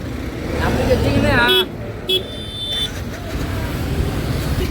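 Auto rickshaws move off together during a protest rally toward an RTO office. Engines rumble and traffic noise holds throughout, with a couple of short horn toots near the middle and people talking nearby.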